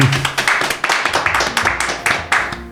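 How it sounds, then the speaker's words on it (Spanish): Applause for a guest during an interview conversation, a quick run of sharp, close hand claps from a few people in a brisk irregular rhythm, with a faint tone and murmur beneath. "Un aplauso para Martín"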